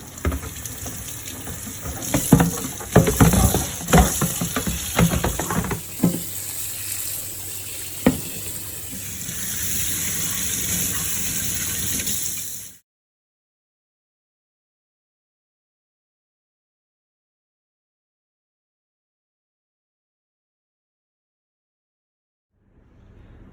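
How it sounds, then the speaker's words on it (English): Super hot tap water runs while brewing equipment for a lager beer kit is rinsed, splashing and knocking against the gear, then a steadier stream before it cuts off into silence. "So I'll rinse off all my equipment with super hot water here"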